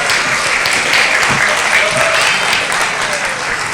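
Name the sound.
audience applause at annual day event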